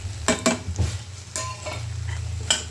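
Spoon scrapes and stirs through thick masala of turmeric and fenugreek powder in a metal pot for sundakkai peanut kuzhambu, a few sharp clinks over a low steady sizzle, close and fairly loud.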